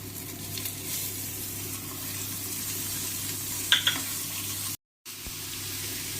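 Prawn biryani masala with Kashmiri chili powder, mint and coriander leaves sautés in a pan, a steady close sizzle with low hum, a brief clink near the end and a short dropout.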